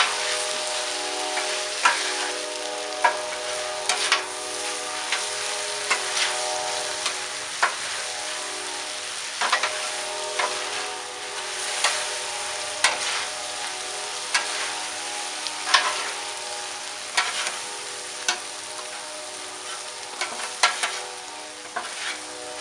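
A stir fry of vegetables and meat in a sugary sauce sizzles loudly on a Blackstone griddle, with a continuous hiss broken by regular metallic spatula taps and scrapes as it is tossed.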